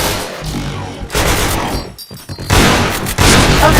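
Point Blank online shooter gameplay produces dense, loud bursts of rapid gunfire and booming shots that come in waves with brief lulls between them.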